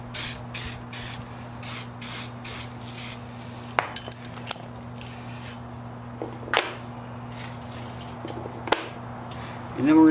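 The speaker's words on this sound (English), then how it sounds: "we're going to spray some all over the rest of it" Short hissing bursts of an aerosol contact adhesive spray can on a 1983 Honda CB1000 seat, several quick squirts in a row, followed by scattered clinks and light handling noises against a steady hum.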